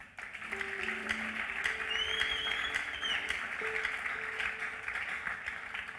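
A church congregation applauding to acclaim Jesus during a Sunday worship service: steady, fairly quiet clapping from a crowd that runs throughout, with sustained keyboard notes ringing over it.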